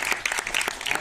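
A crowd at a Hindi film trailer launch in a mall claps in a brisk, dense burst of many hands close by, without pause throughout.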